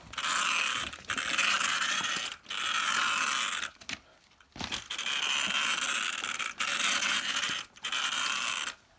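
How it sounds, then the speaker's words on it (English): Wheel nut being tightened on an Arrma Kraton EXB RC car, producing bursts of fast ratcheting clicks in several long runs separated by short pauses, close and fairly loud with no talking. "I do not want to put that wheel nut on too tight"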